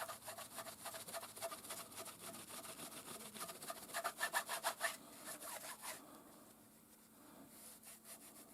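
Someone rubs a pad back and forth over the stock of a Nylon 66 rifle during restoration, making a steady, close rasping scrub in quick rhythmic strokes that trails off into softer, slower wiping.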